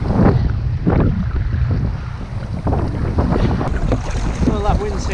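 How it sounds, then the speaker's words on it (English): Strong wind roars across the open sea off the Shetland island of Unst during a kayak fishing trip, loud buffeting against the microphone with waves and water sloshing close by, and no speech. "that wind seems to be dropping a little bit, so that's a bonus."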